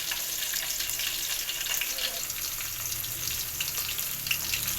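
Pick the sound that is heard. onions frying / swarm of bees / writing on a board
onions frying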